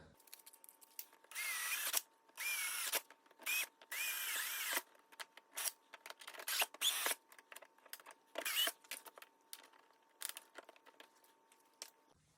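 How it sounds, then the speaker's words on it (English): A power drill whines in repeated short bursts while drilling rivet holes for a knee vent on a 2019-2021 Ski-doo 850 snowmobile, several longer runs early on, then quicker intermittent pulses, close by with quiet pauses between. "we'll drill the rest of them"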